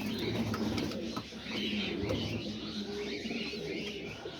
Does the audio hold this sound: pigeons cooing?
yes